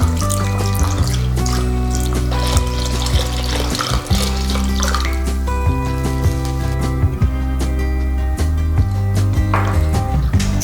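Water poured slowly into bone broth powder while it is stirred, a steady close running-water sound with small clinks and splashes throughout, no talking.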